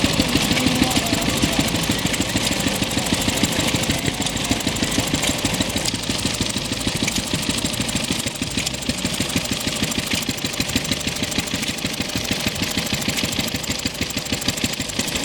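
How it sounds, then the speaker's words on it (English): An old Buzzacott stationary engine, rated 3 horsepower at 1000 rpm, chugs steadily with a rapid, even knocking rhythm, close and continuous throughout, at a vintage engine rally. "This is a Buzzercott engine, rated at 3 horsepower at 1000 revs per minute"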